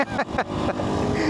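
A small 400cc city scooter runs at full throttle, its engine droning close and loud with a rising, buzzing note, while a voice briefly speaks over it at the start.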